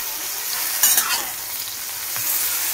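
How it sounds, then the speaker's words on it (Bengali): Brinjal pieces frying in oil in a small kadai, a bright continuous sizzle with a few clinks of a spatula stirring near the start. "তো এইদিকে ছোট্ট কড়াইটা বসিয়েছি, এটাতে আগে বেগুনগুলো ভেজে নেবো"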